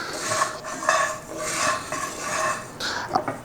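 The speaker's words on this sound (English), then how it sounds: "add the coriander seeds into this and dry saute it for 1 minute" Coriander seeds are dry sautéed in a heated pan, giving a dry rattling, scraping sound of seeds being stirred against the metal in repeated close strokes, with light clinks and no talking.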